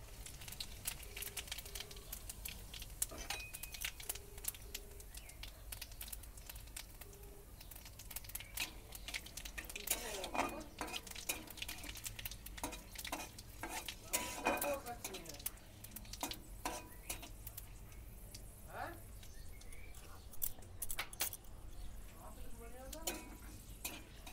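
Whole spices (bay leaves, dried red chillies, cinnamon, cardamom and cumin seeds) crackle in hot oil, a quiet, busy sizzle dotted with quick popping clicks and scraping from stirring.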